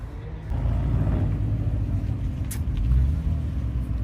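Racing carts rolling past at Wonderland 2023, a steady engine rumble that swells gently as they go by, moderately distant, with a faint voice briefly in the background.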